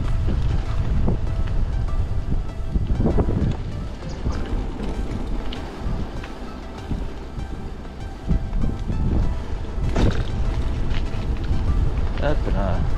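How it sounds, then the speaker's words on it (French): Strong gusting wind at a hilltop lookout in the French countryside buffets the microphone in loud, rumbling bursts that rise and fall over the whole stretch. "il y a quand même du vent."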